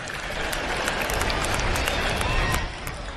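Dense, sustained applause from a large outdoor crowd at a Mashujaa Day celebration in Kitui, Kenya, honouring Governor Dr. Julius Malombe, a broad wash of many hands clapping at once.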